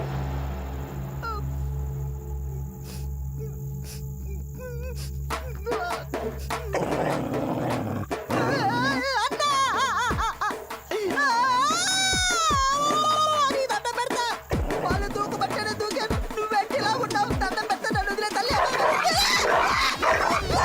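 Dog barking and growling loudly and close, in repeated bursts with roaring snarls, over music and voices in a comedy film scene.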